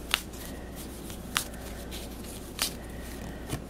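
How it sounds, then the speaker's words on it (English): Tarot cards dealt one by one onto a surface for a weekly reading, four sharp snapping flicks spaced about a second apart over a steady quiet room hiss, with no talking. "let me deal up the cards here"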